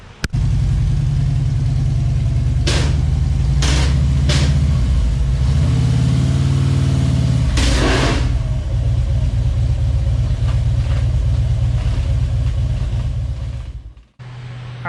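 A Harley-Davidson Touring motorcycle rumbles close by with a loud, steady low engine drone, a few brief revs and bursts over the first half, then settles into a continuous throb before it drops off near the end.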